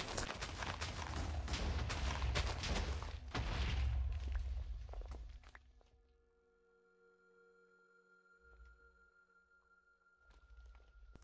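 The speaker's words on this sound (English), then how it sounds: "Here is another one explosion being set off." A TNT explosion in Minecraft sets off a loud booming blast with crackling, rumbling debris that fades out, followed by quieter game ambience and a few softer thuds.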